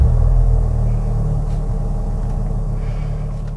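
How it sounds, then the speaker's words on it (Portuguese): A Fiat Fastback Abarth Turbo 270 engine idles just after starting, a steady low rumble heard from inside the car with the windows closed, smooth and even with no revving. "eu quero que vocês ouçam o barulho que ele faz na hora que você liga o carro"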